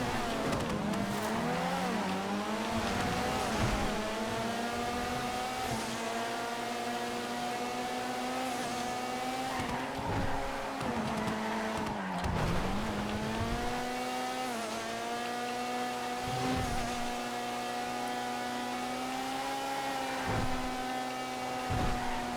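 Race cars in a GTA FiveM racing game scream through gears under steady engine drone, with repeated dips in pitch as the cars brake for corners and then rev back up, loud and continuous throughout.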